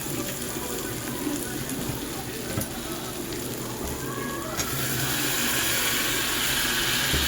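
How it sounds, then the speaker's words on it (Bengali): A little water poured into a simmering prawn curry (doi chingri) in a pan, a steady hissing, sizzling wash that swells slightly toward the end. "একদম সামান্য পরিমাণ আমি এর মধ্যে জল দিয়ে দেব।"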